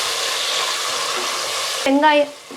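Chopped tomatoes go into a hot pan of mutton kuzhambu being cooked village-style, giving a loud, steady sizzle and frying hiss, with a brief voice near the end.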